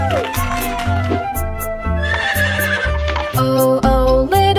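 A horse neighs in a children's farm-animal song, rising over bouncy music with a thumping beat and singing.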